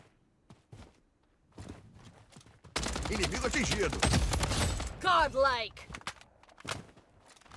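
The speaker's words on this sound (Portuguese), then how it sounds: "Foda que tem um cara de sniper atirando, hein?" Rapid gunfire from a Blood Strike shooting match, a dense burst of shots that swells to a loud sustained barrage in the middle, with scattered lighter clicks and steps around it.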